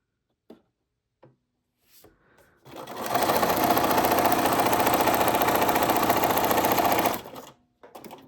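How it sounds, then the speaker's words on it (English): A sewing machine backstitching on paper whirs in one steady, loud run of about four seconds, preceded and followed by a few faint clicks and near silence. "I am going to backstitch this part"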